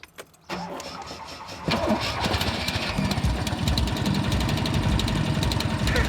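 Car engine cranking and catching, then settling into a loud, steady rumbling idle and revving alone, close by, on an old banger being flipped for resale.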